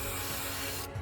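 An aerosol can sprays aircraft paint remover in one continuous, loud, close hiss that cuts off abruptly near the end.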